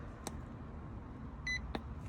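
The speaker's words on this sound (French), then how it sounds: "On entend le petit bip, on l'a entendu." A short, high electronic beep sounds once from a power inverter switching on in a quiet room, with a couple of faint clicks before and after it.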